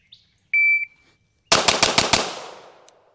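A Staccato XC pistol fires five quick shots in a tight rhythm, loud and close with a ringing tail, after a brief electronic beep from a shot timer.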